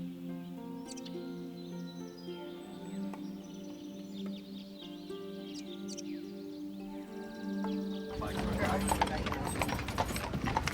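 Horse and buggy clip-clopping with steady, rhythmic hoofbeats on a road near Hohenschwangau castle, with birds chirping around and a louder burst of noise toward the end.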